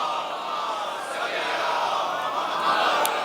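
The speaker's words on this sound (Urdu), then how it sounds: "آپ ایک صلوات پڑھیے، صلوات پڑھیے، بلند آواز سے صلوات پڑھیے۔" A congregation at a majlis gathering recites salawat loudly in unison, a dense, sustained murmur of many voices that holds steady and fairly loud throughout.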